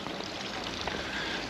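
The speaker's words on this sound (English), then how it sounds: "the water is coming through here, look." Water streams down stone channels of a garden water feature at the Gardens of Alfabia in Mallorca, a close, steady pouring rush without pause.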